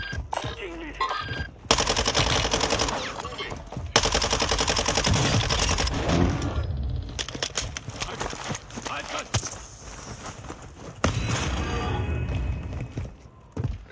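Fast automatic gunfire from a Call of Duty Warzone 2 firefight, loud bursts in quick succession with gaps between volleys, with a voice speaking over parts of it.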